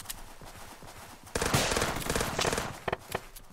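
Loud sustained burst of automatic gunfire in an .io shooter video game, nearly a second and a half of dense rapid shots, followed by a few separate sharp single shots.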